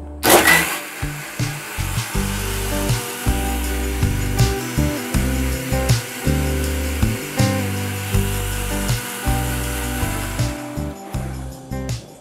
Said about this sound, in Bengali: তাই আমি আবার ব্লেন্ড করে নিচ্ছি কিছুক্ষণ।